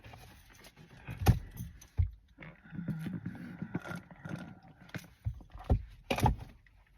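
Car keys jangling and clinking in hand, several brief metallic rattles amid rustling and handling noise, close by, with faint background sounds.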